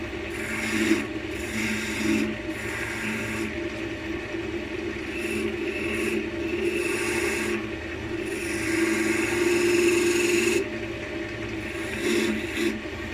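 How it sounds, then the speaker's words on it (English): A small gouge cuts a groove into a spalted beech spigot on a wood lathe, giving a continuous raspy scraping under the hum of the spinning lathe, swelling and easing in short passes. "just going to take this tiny gouge and we're just going to make a groove"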